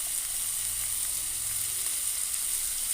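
Dried anchovies sizzle and fry in a pan with softened onion and tomato, a steady close hiss of hot oil running evenly throughout without any voices.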